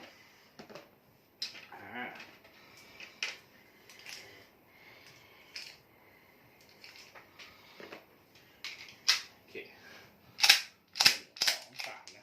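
Zoraki M906TD blank pistol firing, sharp cracking reports scattered irregularly through the clip and clustering into a rapid burst of loud shots near the end, with soft handling clicks between them.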